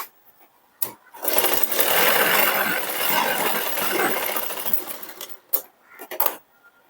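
A sewing machine running steadily for several seconds while stitching tucks on a blouse, close and fairly loud, with brief taps and handling noises before and after.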